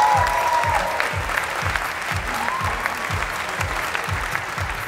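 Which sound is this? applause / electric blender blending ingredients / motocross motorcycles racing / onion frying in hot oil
applause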